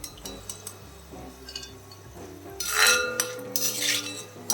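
Metal utensils clink against a pan and plate as fried ginger for a Kerala-style ginger curry is moved onto a plate, with close, bright chinks and scraping, loudest in two bursts toward the end over a steady kitchen hum.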